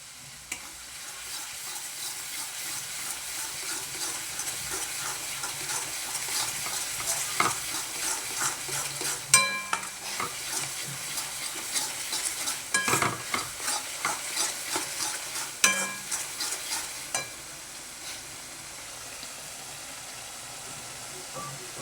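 Ghotala pav bhaji stirred and roasted in a pan, a continuous soft sizzle with an irregular run of scraping and tapping spatula strokes that grows busier midway, then eases into a quieter hiss near the end.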